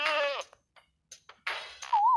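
Two short sheep bleats from the video game Brain Test 2, separated by quiet gaps, close and fairly soft, with small clicks between them and a brief rising tone at the end.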